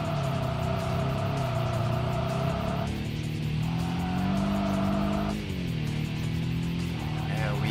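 Race car engine in Kaido Racer, a loud sustained whine that drops in pitch as the car slows into corners and then climbs again, with a short tire squeal near the end.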